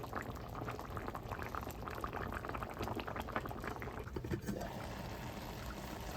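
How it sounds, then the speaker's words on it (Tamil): Seeraga samba rice boils in a small rice cooker with a close, continuous bubbling and gurgling that stays steady and soft throughout. "குட்டி ரைஸ் குக்கரில் சீரா சம்பா ரைஸ் வேகுது"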